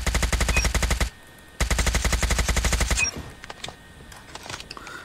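HBRa3 assault rifle firing in COD Mobile, two long rapid bursts of loud close automatic gunfire separated by a brief pause, followed by scattered fainter shots and game noise.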